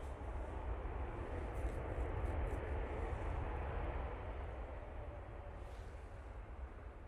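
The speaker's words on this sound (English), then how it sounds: "Decent landing. You could see the wind hitting it a little bit just as it went into the flare." An Emirates airliner in UAE flag livery lands in gusty wind, heard from afar as a broad, steady roar of engine and rushing air that stays even throughout, with no voices.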